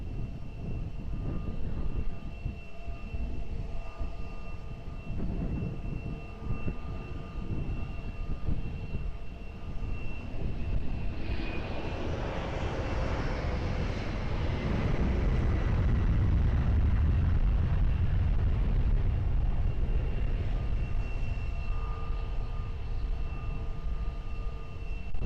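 Jet airliner approaching and landing at Lisbon Airport, a steady loud engine roar that swells as the aircraft passes, with a rumbling low surge in the second half, heard from outdoors at a distance.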